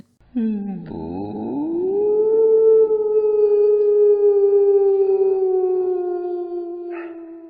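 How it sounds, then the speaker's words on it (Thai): A single dog lets out a long, sustained howl, rising at the start and holding a steady mournful tone, fairly close and loud. "เสียงหมาหอนใกล้เข้ามา"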